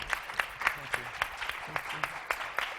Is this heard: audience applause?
yes